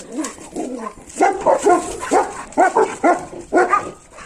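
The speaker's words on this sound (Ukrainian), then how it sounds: "І тут собака." A black German Shepherd barks and yips repeatedly nearby in quick irregular bursts, loud and close, with some whimpering between barks.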